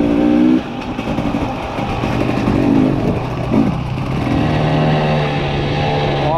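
Husqvarna TE300i enduro motorcycle accelerating in third gear, a loud close engine roar that rises and holds steady with shifting pitch, continuous and alone.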